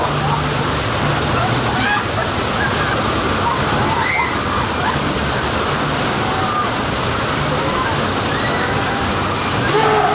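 Water pours and sloshes steadily over riders at a theme park water attraction, a loud, continuous rushing wash with faint splashes and distant crowd noise throughout.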